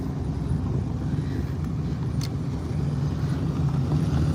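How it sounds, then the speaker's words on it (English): Cars rolling into an outdoor car show, including a '57, a Monte Carlo wagon, a GMC truck and a Camaro, give off a steady low engine rumble with traffic noise. It stays fairly loud and unbroken, with no talk. "Man, we really got some cars coming in now."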